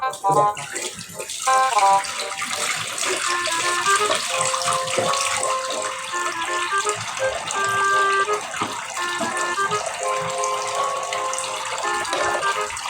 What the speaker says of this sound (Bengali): আমি এখন দাঁত মাজবো